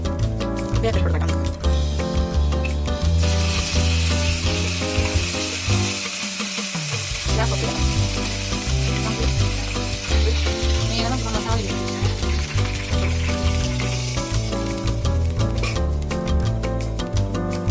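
Mustard seeds and curry leaves sizzle in hot oil with a loud, continuous crackling hiss, while a voice talks over it and tonal background sounds run underneath.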